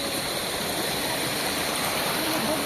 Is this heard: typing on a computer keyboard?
no